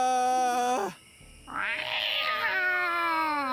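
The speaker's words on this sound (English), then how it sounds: "That's a good cat." A cat in the video game Jenny LeClue gives a drawn-out, wavering meow, then a second whining yowl after a brief pause, with soft game music underneath.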